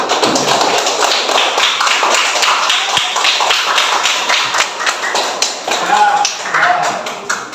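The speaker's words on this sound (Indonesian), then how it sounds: "Beri tepuk tangan." Classroom of students clapping for a group presentation, a close, lively patter of individual claps with uneven rhythm, voices murmuring underneath as the applause tapers off.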